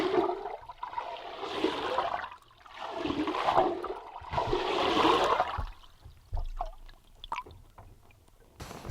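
A Whopper Plopper muskie lure is pulled through the water with the rod tip submerged, making three loud, rhythmic gurgling sweeps, then fainter trickles and small splashes, close by.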